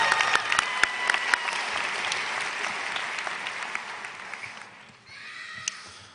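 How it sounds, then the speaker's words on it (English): Dense audience applause at a high school graduation ceremony honoring a teacher, a steady wash of many hands with some sharper claps, heard from a distance and tapering off near the end. "Let's give a round of applause to her."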